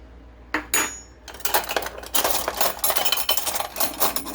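Metal tablespoon and teaspoon handled in a home kitchen, giving a run of light clinks, taps and scrapes in irregular bursts, close by and fairly quiet, with no talking.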